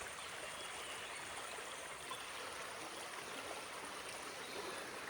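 A village river flows past a small dam, giving a soft, even rushing and trickling wash that stays faint and distant, with no voices over it.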